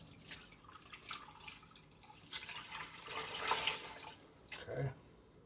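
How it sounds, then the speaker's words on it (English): Water pours and trickles into a cooking pot for corned beef and cabbage, a soft splashing stream with dripping sounds that swells toward the end, close and fairly quiet with no talk. "I put my 4 cups of water"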